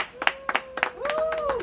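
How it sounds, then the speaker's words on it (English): Scattered audience clapping at a zoo bird show in the Bahamas, a few distinct claps in irregular bursts, with a tonal whistle or bird call rising over the end as a voice speaks nearby. "I'd like to give a nice loud round of applause for the sensitive birds."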